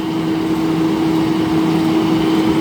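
Deutz-Fahr Agrolux 80 CRDi tractor engine running steadily with a constant droning hum, loud and close, with no breaks or talk.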